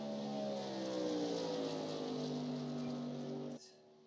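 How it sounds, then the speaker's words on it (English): Race truck engines droning on track at Chicagoland Speedway in the iRacing simulator, a steady harmonic engine whine holding pitch before cutting off abruptly near the end. "All four of those trucks are on track right now on their out laps, as Cleaver going to be the first one to tak"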